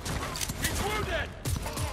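Rapid gunfire bursts crackle in a Cyberpunk 2077 firefight, dense and loud across two seconds, with a voice talking over the shots.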